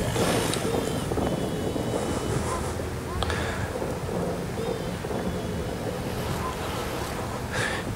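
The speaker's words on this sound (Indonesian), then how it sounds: "turun hujan gerimis" Rain falling as a light drizzle on a trip toward a hilltop stall in the clouds, a steady dense hiss of rainfall throughout with wind noise and distant rumbling, no voices.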